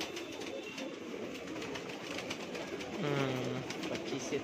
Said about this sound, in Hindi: यही है कबूतर, फीके कबूतर